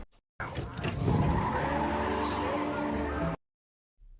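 A neighbour's car pulls away with a loud tire squeal and engine roar lasting about three seconds, close and forceful, then cuts off abruptly into silence.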